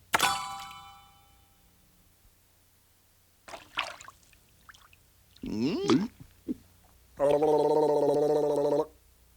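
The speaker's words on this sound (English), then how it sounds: "She started to drink and drink and drink until all the water in the little pool was gone" Cartoon chick Peep drinks from a little pool of water: a short run of bright gulping, gargling sips, followed by a sustained watery tone, alone with no talk.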